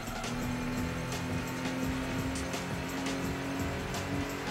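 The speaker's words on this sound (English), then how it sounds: "It's funny the tyre squealing effects on Gran Turismo." Racing cars in the PlayStation game Gran Turismo 2 give out continuous engine drone with bursts of tyre squeal, steady and moderately loud with no talking.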